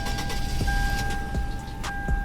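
A sedan engine in the Roblox game Greenville revs with a steady synthetic drone and a high whine, its rev seemingly capped near 5,000 RPM, heard alone at moderate loudness.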